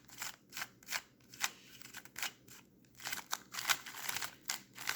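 A cheap label-less speed cube twisted by hand, giving a quick series of dry, scratchy clicking turns in uneven bursts, close up and alone.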